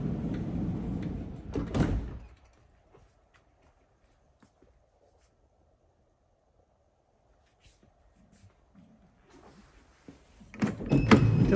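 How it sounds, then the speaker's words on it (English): The near side sliding door of a 2019 Volkswagen Transporter T6 2.0 TDi Highline Kombi van opens with a loud, close rumbling slide lasting about two seconds, followed by near silence and then a further burst of handling noise at the end. "Just open this near side door, there we go"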